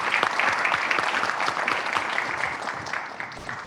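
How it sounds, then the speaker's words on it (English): Steady audience applause for two panelists at an evening business panel event, a full, even wash of clapping from a seated crowd lasting throughout. "how about a nice round of applause for Sissi and Sebastien"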